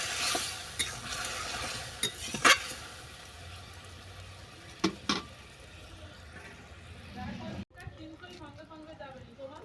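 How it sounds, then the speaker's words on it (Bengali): Jujube pickle stirred with a spoon after a little water is added, a soft scraping and light sizzle under ongoing talk, with a few sharp clinks of utensil on the pan. "এটাকে নেড়ে চেড়ে আমি একটা ডিশ ঢেকে দেবো।"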